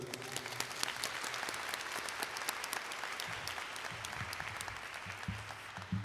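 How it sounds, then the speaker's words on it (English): Audience applause at a 2020 high school graduation ceremony, a dense, steady wash of many hands clapping that holds evenly throughout without breaks. "Give another round of applause for those two."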